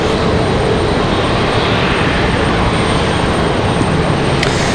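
A Frontier Airlines jet in its Flower hummingbird livery taxis at Raleigh-Durham International, giving a steady, loud engine rumble and hiss that stays even throughout, with no voices.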